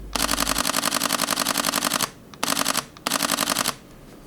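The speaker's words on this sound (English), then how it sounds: "if you wonder what 11 pictures a second sounds like" A Sony Alpha 6000 camera shutter fires in rapid continuous bursts at 11 frames per second, a long rattling run followed by two shorter ones, crisp and close.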